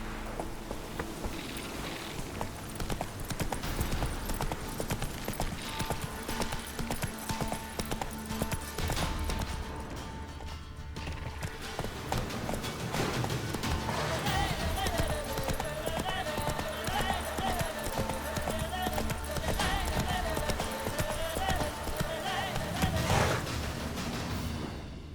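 A horse gallops in The Witcher 3: Wild Hunt, with rapid, steady hoofbeats running throughout, layered over game music and ambience.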